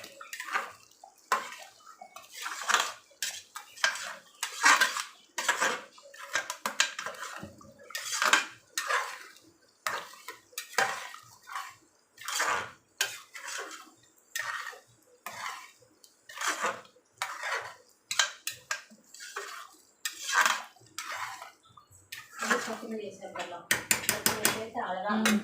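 A spoon stirring ground spice powder into mutton gravy in a pot: repeated clinks and scrapes of metal against the pot in an irregular rhythm, with a wet splashy rattle near the end.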